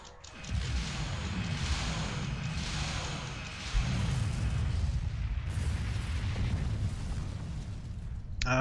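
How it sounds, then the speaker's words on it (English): Plasma weapons fire in a Star Trek video game, producing a dense, continuous roar of booming energy blasts and rumbling impacts that swells partway through and keeps going. "Let's use some plasma weapons."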